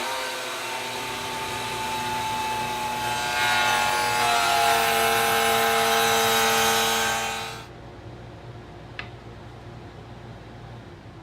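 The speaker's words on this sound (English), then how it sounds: "I've made a mark here on the workpiece for where I will start and stop this dado cut." A power tool cuts a dado into a wooden workpiece for a picket bench, a loud continuous whine and grind that swells midway, then stops abruptly, leaving quiet room tone and a small tap.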